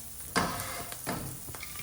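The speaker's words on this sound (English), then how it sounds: "Again, moving them around in the pan." Cauliflower pieces crisping in oil in a pan, a close sizzle with a couple of sharp stirring scrapes as they are moved around.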